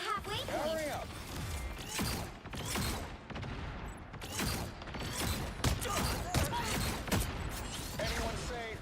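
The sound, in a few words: fireworks in a video game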